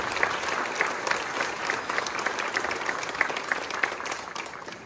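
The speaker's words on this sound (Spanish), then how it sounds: "Le damos un fuerte aplauso a Cristo y a San Juanito, a quien hoy estamos celebrando" A congregation at a Catholic patron saint mass for San Juan Nepomuceno claps together in a dense, sustained burst of applause heard from within the church, steady for several seconds.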